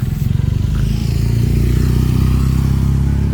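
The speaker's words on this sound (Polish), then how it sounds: "zaraz mnie skuter przejedzie" A scooter passes close by on a street in Larnaka, Cyprus, its low engine drone loud and steady with rattly mechanical clatter, no voices.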